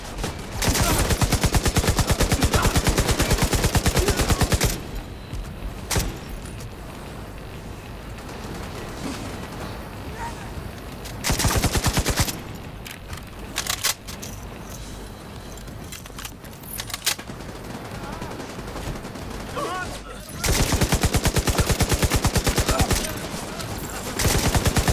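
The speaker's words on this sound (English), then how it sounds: "Turret is doing good on the flank." Automated turret in The Division 2 fires rapid bursts on the flank, loud dense gunfire in long stretches broken by quieter pauses of other combat noise.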